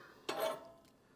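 Coals and ash being raked through the grate of a Morso 7110 wood stove, a single short metallic scrape and rattle lasting about a third of a second, then quiet.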